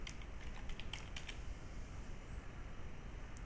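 Steady keystrokes on a computer keyboard, clustered clicks in the first second and a half, then lighter scattered taps over a constant low background hum with no talk.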